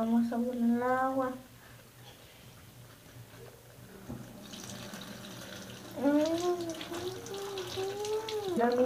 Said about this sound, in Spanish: le vamos a poner el agua